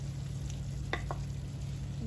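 Cut tomatoes fry in a pan while being stirred, giving a soft, steady sizzle with a few faint scraping clicks from the utensil, heard alone and fairly quiet.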